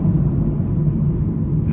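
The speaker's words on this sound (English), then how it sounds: "I wish I could get out on the open road here so I could step on this" A supercharged truck engine, heard as a steady low rumble from the cab, continuous and fairly loud with no talking.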